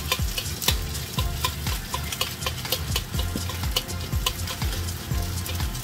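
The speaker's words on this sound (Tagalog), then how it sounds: "Tapos, sa gitna, ibuhos ko na yung itlog." Beaten egg poured into luncheon meat fried rice in a hot pan, sizzling steadily while a spatula scrapes and taps the pan in quick, repeated strokes, close and continuous.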